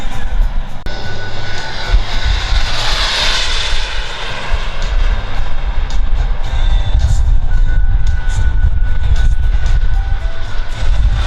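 Model T-33 jet aircraft, radio-controlled, flying at an RC air show, its turbine roar loud and continuous throughout, swelling and shifting as it passes overhead, with no talk.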